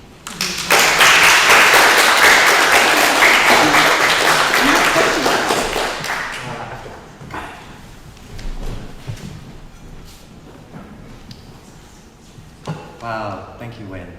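Loud, dense applause from a storytelling salon audience fills the first six seconds, then fades into scattered claps as a speaker begins talking over the tail.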